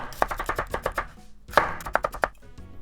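A knife slices through a peeled onion, its top and bottom trimmed off, on a cutting board while preparing Japanese potato salad. Crisp, rhythmic cuts come close and clear in two quick runs with a short pause between them.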